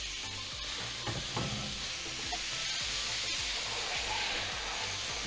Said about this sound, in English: we're gonna stick this hot steak in here